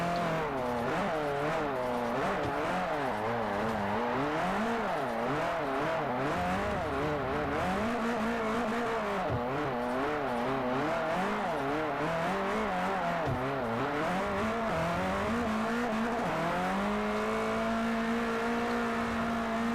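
A Camaro or Scion FR-S drifting, its tires squealing in a continuous, wavering howl over engine drone. The squeal holds loud for about twenty seconds and settles into a steadier tone near the end.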